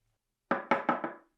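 Four quick hollow knocks in a row as a milk pitcher is tapped to knock out bubbles, close and fairly loud, each tapering off before the next, then silence.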